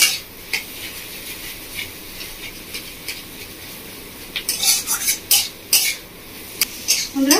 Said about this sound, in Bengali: মিডিয়াম ফ্লেমে 3 থেকে 4 মিনিট মতো একটু ভেজে নেবো